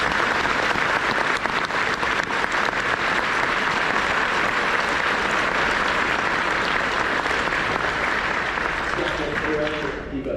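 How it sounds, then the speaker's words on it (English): Sustained, loud audience applause at a Cranium Command retrospective event, dense and steady throughout before fading near the end, with some voices mixed in. "Please give them a round of applause."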